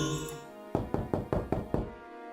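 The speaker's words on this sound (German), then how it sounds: "Ich klopfe mal" On a ship's cabin door in the Hidden Mysteries: Titanic game, six evenly spaced, firm knocks sound close and clear after a brief quiet moment.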